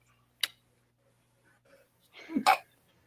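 A short sharp intake sound is followed by a single loud sneeze near the end, otherwise quiet.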